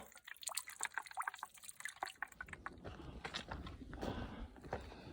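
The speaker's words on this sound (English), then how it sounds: "Nice little branch there to channel the water right into my bottle." Rainwater drips and trickles off a branch into a bottle in irregular patters, starting as scattered drops and building into a denser, steadier trickle toward the end.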